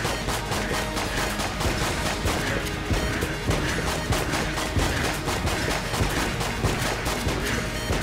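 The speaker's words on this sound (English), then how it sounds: "I just need to start shooting." Dense, continuous gunfire in the roguelike shooter Enter the Gungeon, with rapid overlapping shots and crashing impacts forming a loud, unbroken barrage that runs throughout.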